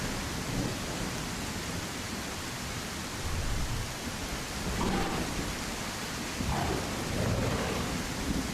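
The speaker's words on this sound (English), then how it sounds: "I think it's just this rain. It's just so loud." Heavy, steady rain roars loudly throughout in the video game The Isle Evrima, with low rumbles of thunder rolling in a few times beneath the downpour.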